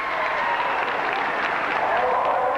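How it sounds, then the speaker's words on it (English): Crowd at a 1988 Wentworth Park Australia Grand Prix show jumping event applauding a double clear round, steady broad clapping from a large audience held at an even level throughout. "the crowd really enjoying double clears from John Fay"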